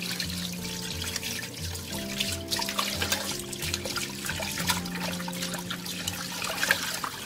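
Tilapia fish is rinsed under running water to wash off its slime, a steady splashing and trickling close by with a faint tonal hum in the background.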